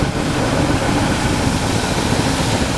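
Diesel engine of a Speedclean Gumseeker cleaning unit on a full rolling chassis, idling at about 710 RPM: a steady, loud low rumble running continuously without change.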